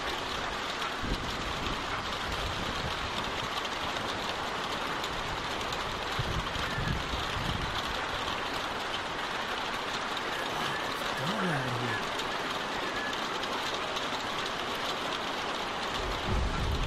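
Steady rain falls outside a barn as a continuous, dense hiss with occasional heavier patter, close and loud throughout, with a low rumble and brief voices underneath.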